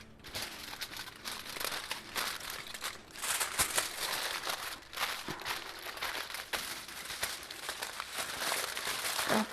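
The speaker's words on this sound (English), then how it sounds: "cover with this aluminum foil" Aluminum foil crumpled and pressed over a pot of corned beef topped with banana leaves, continuous crisp crinkling and rustling close up, fairly quiet, with no talking.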